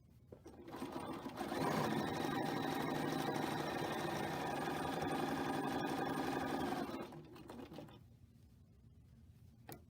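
A sewing machine stitches quilt pieces, running in one steady, close whirring burst of several seconds before stopping, with quieter mechanical clicks at the start and end.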